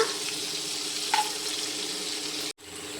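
Cinnamon, cumin and cardamom sizzle in a spoonful of hot ghee, a steady close frying hiss with a brief clatter, cutting out for a moment near the end.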